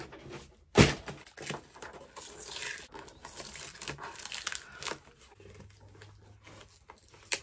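Crinkling and tearing of cardboard packaging, with a sharp loud rip near the start followed by several seconds of rustling and crumpling close by.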